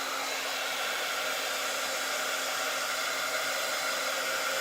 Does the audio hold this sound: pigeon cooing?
no